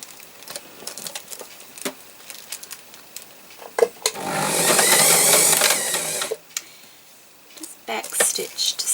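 Sewing machine stitching through the pages of a handmade collage book, a steady close whirring run of about two seconds that sits between scattered handling taps and brief talk.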